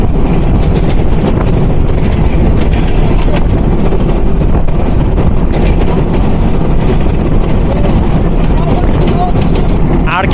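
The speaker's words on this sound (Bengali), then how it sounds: "আমাদের ট্রেন থ্রু পাস করে যাচ্ছে ময়মনসিংহ কৃষি বিশ্ববিদ্যালয়" A Mohua Commuter train, heard from the locomotive, runs through Mymensingh Agricultural University station without stopping, with a loud, unbroken engine roar and a rolling track rumble that holds steady throughout.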